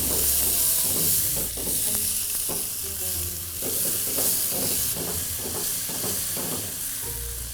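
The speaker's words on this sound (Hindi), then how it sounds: "एक तरफ अपना आलू और प्याज भुन रहा है" Potatoes and onions fry in a pan for egg biryani, a steady loud sizzle with frequent stirring scrapes and clatter throughout, no talking.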